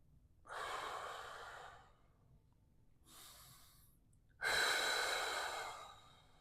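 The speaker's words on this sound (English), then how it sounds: "Just breathing, breathing, breathing." Breathing during a hip mobility stretching exercise for quads, hip flexors and hamstrings: three close, audible breaths, two long exhales separated by a pause and a final stronger, rushing exhale, with no talking.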